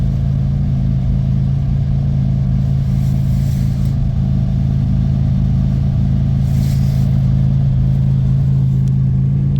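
A steady, loud low drone comes from the Ricketts Racing Brutus race car's engine running on a freezing day, idling evenly throughout with faint hissy swells above it and no talking.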